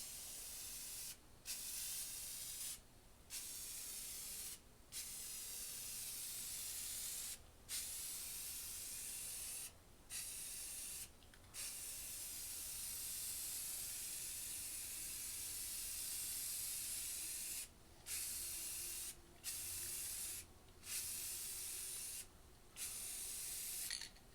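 A spray can lays bright red paint onto Murray 20 push mower parts in about ten steady hissing bursts, each a second or two long, separated by brief pauses.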